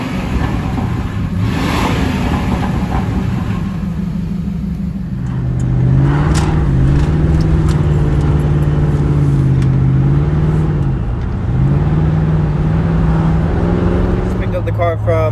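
A Lincoln lowrider's engine idles with a deep exhaust rumble at a muffler shop, then revs up in a rising and falling drone, close by, with a person talking over it.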